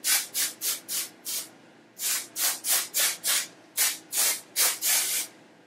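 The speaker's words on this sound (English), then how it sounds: "So I'm going to spray a little bit on the length of my locks" Dark and Lovely Hair Refresher sprayed onto long soft locs in about fifteen quick, close pumps, bursts of hissing mist in rapid groups with short pauses between, no talking.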